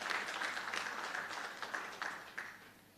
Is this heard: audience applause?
yes